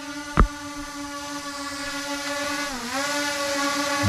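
A small S50 Lite GPS drone hovers outdoors on a windy day, its propellers producing a steady tonal whine with stacked harmonics that dips briefly in pitch, and a single thump near the start.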